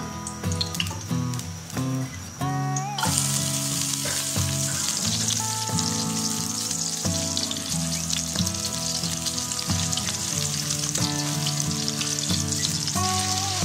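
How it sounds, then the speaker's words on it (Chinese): Scallions and garlic stir-fried in hot oil in a wok, a loud, steady sizzle with scraping stirring sounds, close and continuous with no talking. "起锅烧油，放入葱蒜炒香"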